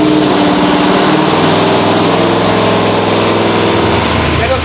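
A loud engine idles and revs close by with a rough, vibrating drone and a thin squeal on top, running continuously without a break.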